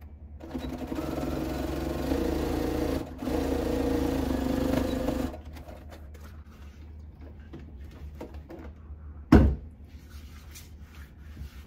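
A sewing machine stitches fabric for an origami bag, running in a steady whirring burst for about five seconds. A quieter stretch follows, broken by a single sharp clunk near the end.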